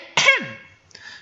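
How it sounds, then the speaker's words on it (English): A single loud cough into a hand, one sharp close burst with a short falling tail, followed by a faint breathy sound. "She coughed loudly into her hand"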